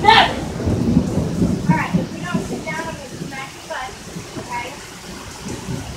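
Thunder rolls during a rainstorm, opening with a loud crack that rumbles on beneath steady rain, while voices talk intermittently over it.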